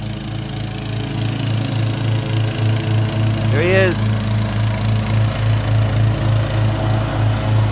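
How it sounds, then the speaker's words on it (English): A Cub Cadet XT1 Enduro garden tractor mows a lawn with a steady, close mechanical drone and a regular pulsing engine note, while someone speaks briefly over it. "mowing the lawn with my tractor"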